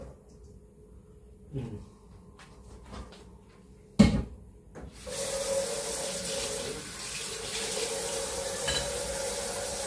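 Water gushes from a tap into a cooking pot of fatty meat, a steady splashing flow starting after a few clattering knocks of utensils and lasting to the end.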